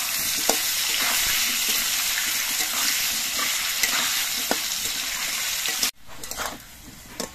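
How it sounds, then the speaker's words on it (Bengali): Potatoes frying in a pan with a pinch of salt give a steady, close hiss and crackle with occasional stirring scrapes, cutting off abruptly near the end before a brief quieter sizzle returns. "আলুটা ভাজার সময় আমি অল্প করে একটু নুন দিচ্ছি"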